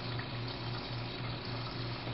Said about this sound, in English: Water is pumped into the side of the separator's upper chamber via a tangential inlet